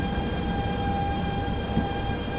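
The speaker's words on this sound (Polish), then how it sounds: "Bardzo fajnie brzmi ta lokomotywa." Steady electric hum and rolling rumble come from a BR 187 TRAXX 3 locomotive in Train Simulator Classic, with sustained tonal whine over low rail noise, continuous and fairly loud with no talk.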